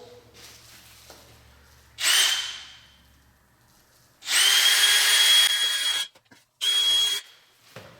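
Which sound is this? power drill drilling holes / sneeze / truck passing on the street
power drill drilling holes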